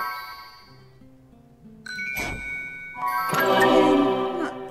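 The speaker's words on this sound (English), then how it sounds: "There's chimes, so you know it's magical." Magical chimes from the video game Fairy Tale Mysteries 2 ring out as bright tinkling dings over soft background game music, with a sweeping shimmer midway and a denser cluster of sparkling tones near the end.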